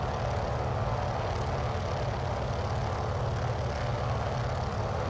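A Noorduyn Norseman's radial engine in Microsoft Flight Simulator drones steadily with a low propeller rumble on landing approach, loud and continuous with no talk over it.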